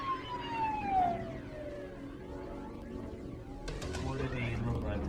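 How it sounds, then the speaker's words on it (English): A police siren wails and falls in pitch as a vehicle passes, followed by traffic noise and a faint voice. "Hearing police sirens outside, the man grew agitated and nervous."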